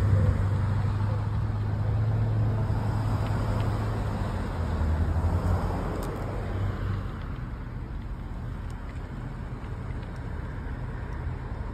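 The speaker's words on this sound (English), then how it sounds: "There's cars coming down." Cars pass along a roadway, a continuous broadband rush of traffic with a low engine hum in the first half that swells and fades, heard from the roadside at moderate level.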